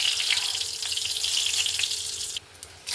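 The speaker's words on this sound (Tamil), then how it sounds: "எண்ணெய் காஞ்சிடுச்சு பட்டை கிராம்பு கல்பாசி பெஞ்சிரம் போட்டு பெரிய விடுவோம்" Cinnamon, cloves and other whole spices crackle and sizzle in hot oil for a mutton kola urundai kuzhambu tempering, a steady bright hiss close by that drops out briefly near the end before resuming.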